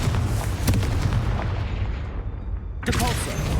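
A Confringo blasting spell bursts in Hogwarts Legacy, a dense rumbling explosion with crackling debris that fades, then a second sharp blast erupts near the end, loud and close amid game noise.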